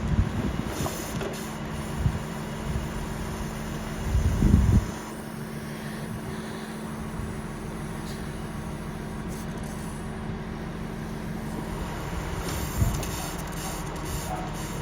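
A tractor runs on a farm, its engine a steady, continuous drone with a brief louder surge partway through, and no voices over it.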